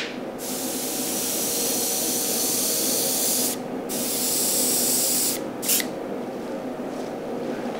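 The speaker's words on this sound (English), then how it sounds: "So it's just a spritz to put one little layer on top of there." Spray coating is spritzed over a taxidermy deer mount in long, steady, close hissing bursts with brief gaps between them and no voices.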